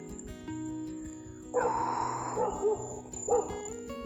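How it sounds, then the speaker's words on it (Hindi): A dog barks a few times at moderate distance on a roadside near a house above a deep ravine, short yelping bursts standing out over a steady background hum. "कुत्ते की आवाज़ भी आ रही है"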